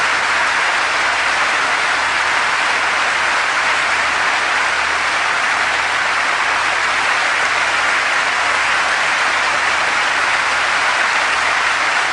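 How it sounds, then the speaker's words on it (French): An audience applauds at a religious testimony gathering, a dense, loud and unbroken roar of clapping that holds steady from start to finish with no voices over it. "tous ces applaudissements à toi Seigneur"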